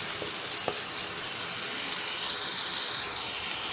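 Grated onion and tomato go into a hot pan for a fasting-style veg Manchurian gravy, giving a steady, dense sizzle that holds at an even level throughout, with no talking.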